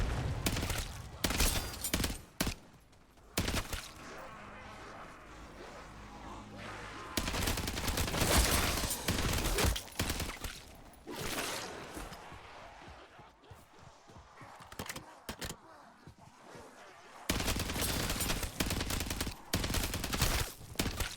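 Rapid bursts of video game gunfire crackle through a busy match, loud sharp volleys broken by short pauses, with more shots and game effects mixed in.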